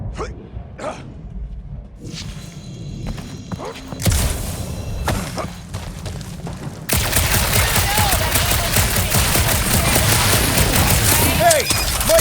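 Dense, continuous gunfire in the Guardians of the Galaxy video game, with sparse shots early on building into a loud, sustained barrage over the second half.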